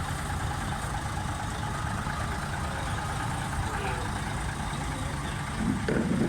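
A Bristol lorry idles in a steam rally parade, a steady low diesel rumble with constant outdoor background noise and no clear changes.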